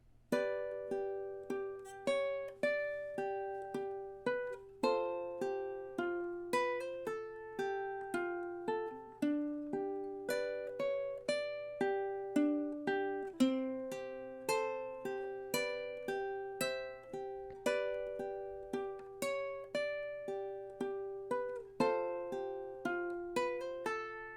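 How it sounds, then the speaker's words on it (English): Ukulele plays six bars of a love song, a steady stream of plucked notes with chords mixed in, descending and rising in even time, close and clean with no voices. "let's go ahead and hear what those 6 bars sound like together so that you can get the feel of the descent and ascent of them"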